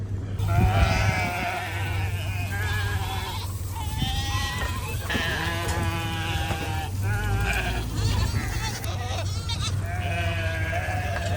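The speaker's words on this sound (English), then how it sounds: "So we got a sheep out, a lamb, out on the wrong side of the electric fence." Sheep and lambs bleat over and over, several overlapping calls against a steady low hum, close and loud throughout, a lamb out on the wrong side of an electric fence.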